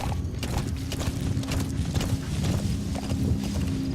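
Horse hooves in Metal Gear Solid V The Phantom Pain, a steady rhythmic clip-clop of a ridden horse walking, close and continuous over a low droning background.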